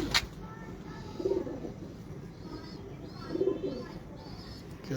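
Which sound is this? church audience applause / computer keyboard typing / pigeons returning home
pigeons returning home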